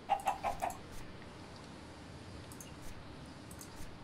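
A Minecraft chicken clucks in a quick run of four short clucks at the start, then faint game ambience continues with no voices.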